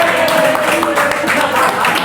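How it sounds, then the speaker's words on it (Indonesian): A podcast studio group claps briefly, a busy patter of hands that carries on evenly with some voices mixed underneath. "Tepuk tangan."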